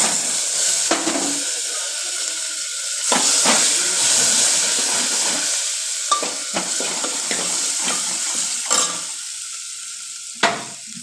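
Curry leaves, chillies and tomatoes sizzle in hot oil in a pan with whole spices while dal and rice are cooked, a steady close frying hiss broken by sharp crackles and spatters and stirring scrapes, with no talking.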